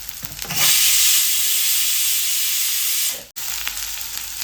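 Onion sautéing in a pan with green chilies, ginger and garlic until soft: a loud, close, steady sizzling hiss that holds for about three seconds, then cuts off abruptly and returns more quietly.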